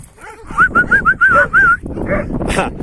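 A dog whimpers in a string of high, wavering whines, close by, with someone talking over and between them.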